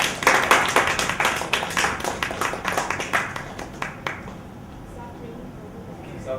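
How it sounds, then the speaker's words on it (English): Audience clapping after a talk on a stage show, a burst of scattered hand claps that thins out and stops after about four seconds, leaving quiet room tone. "Big applause for."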